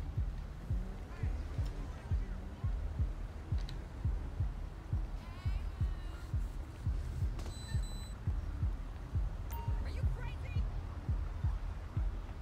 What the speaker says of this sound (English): Check for a heartbeat.